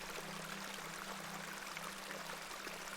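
Steady rushing and trickling of a small beck in the game The Excavation of Hob's Barrow, a continuous moderate wash of flowing water with a low hum beneath, no voices.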